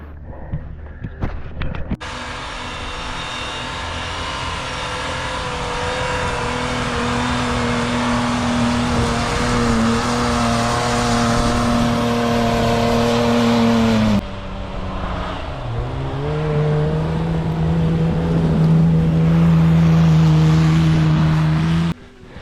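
Petrol Toyota driving and revving hard through snow in the Victorian High Country after a blizzard, a loud, sustained engine roar that climbs in pitch, drops sharply at a gear change and climbs again, close and alone.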